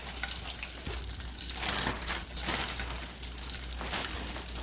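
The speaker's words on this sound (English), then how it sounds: "you want to dump the shrimp up in that hot oil" Flour-dredged shrimp fry in a pot of hot oil, giving a steady, close, crackling sizzle with bubbling pops throughout.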